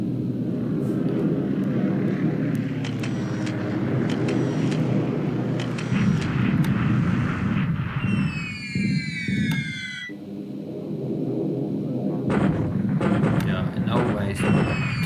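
Bombing strike aircraft in the wartime strategy game War in the Pacific drone loudly with heavy engine noise, overlaid by bursts of explosions and rising, whistling tones, with someone talking throughout.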